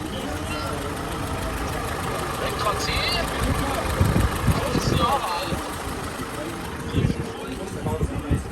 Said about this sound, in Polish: A ten silnik tutaj za mną, on chodzi 3 dni bez oleju, 3 dni bez smarowania.